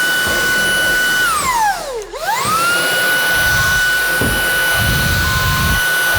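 A Dreamtech P10 Pro cordless stick vacuum cleaner runs loud and close with a high, steady motor whine that briefly spins down and ramps back up to full speed, along with faint brushing and rattling of debris.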